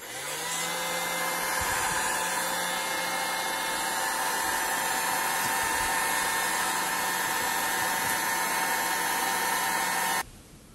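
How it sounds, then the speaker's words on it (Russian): A hair dryer blows steadily as it heats part of a Fifine K669B USB microphone being taken apart, a loud continuous whirring hiss that cuts off abruptly near the end. "Сейчас возьму фен и прогрею."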